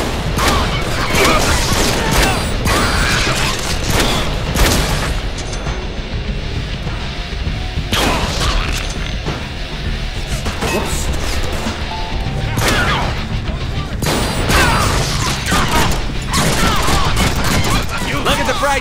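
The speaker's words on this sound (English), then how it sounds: "Shotguns rock!" Shotgun blasts in the Deadpool action video game, loud heavy booms repeating every few seconds over a constant din of combat noise, with occasional voices mixed in.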